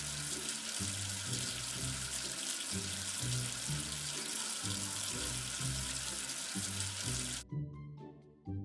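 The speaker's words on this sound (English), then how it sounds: "Wash away the soap with water." Tap water runs steadily to rinse soap off a dirty letter, a constant hiss over background music that cuts off abruptly near the end, leaving a few faint drips.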